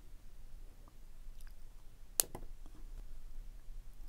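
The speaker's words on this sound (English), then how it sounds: "I'm going to trim the wires" Wire cutters trim jewelry wire with a single sharp, close snip that stands out against a quiet room. A few soft handling rustles come before and after it.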